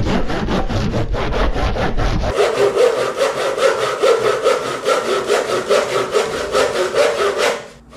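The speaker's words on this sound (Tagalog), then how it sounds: "mukhang matatagalan ako dito sa pagputol ng kahoy" A hand saw cuts through wood with steady, rhythmic back-and-forth strokes, loud and close, with no talking, continuing for several seconds before stopping.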